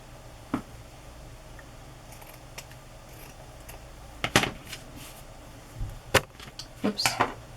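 Scissors cutting paper for an autumn-themed handmade journal: scattered crisp snips, quiet at first, then a quicker cluster of close cuts near the end, with faint room noise and no speech.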